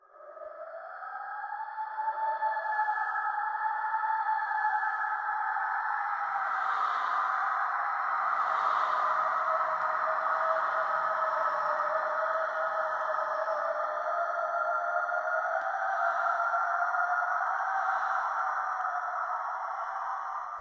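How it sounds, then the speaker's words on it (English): An eerie, droning, wavering tone plays server-wide in Roblox Bloxburg, from the Halloween update's baby rattle, sustained and steady throughout at moderate level with faint pulsing overtones and no talking. "there is this really creepy sound that goes off in the entire server, and it sounds like a zombie apocalypse is about to start"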